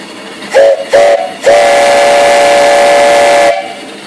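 A 2.5-inch three-chime steam whistle on a homemade steam donkey sounds loud and close: two short toots, then one long steady blast of about two seconds, with a hiss of steam around it.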